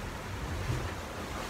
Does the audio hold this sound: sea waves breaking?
yes